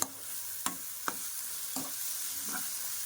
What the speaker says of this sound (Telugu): ఇది బాగా మిక్స్ చేసుకుని నీట్గా వేగనిద్దామండి